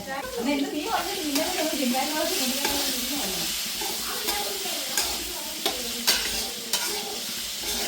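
Vegetables sauté with salt in a pan for Kerala-style kalan, a steady close frying sizzle with scraping stir strokes and clicks, while someone talks over it.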